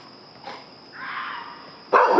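A dog in a backyard barks in short bursts: a softer volley midway, then a louder, closer run of barks at the end over faint background hiss.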